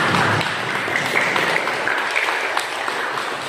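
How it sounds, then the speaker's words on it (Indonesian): Classroom applause for a student group presentation, a steady patter of many hands clapping together at close range, moderately loud and continuous, tapering slightly toward the end. "Kasih aplaus sama teman kita. Tepuk tangan semua."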